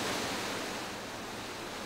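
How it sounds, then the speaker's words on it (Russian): Muddy flood water rushing down slopes in spring, a steady broadband roar of flowing water, even and continuous, heard alone without voices. "Потоки мутной воды устремляются вниз по склонам, смывая с них зимнюю грязь."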